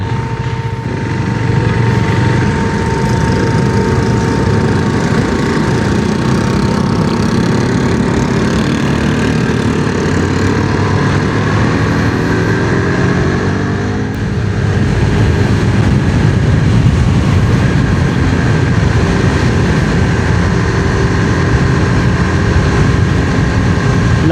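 KTM RC 390 sportbike engine while riding, a loud continuous droning roar with rising and falling revs and wind rush throughout, briefly dipping midway before pulling again.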